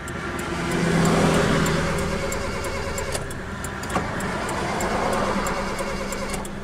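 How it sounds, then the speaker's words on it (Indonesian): The starter of a Mitsubishi Kuda with a 1600cc engine cranks at close range in a steady, whirring churn with a faint rhythmic ticking, and the engine never catches. No one speaks. "Kita hidupkan coba, masih bisa hidup nggak?"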